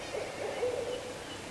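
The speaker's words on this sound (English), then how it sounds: "Got the owls going." Owls hoot in early-morning woods on a Georgia hunting base, a soft low hooting call at a distance, faint against quiet outdoor ambience.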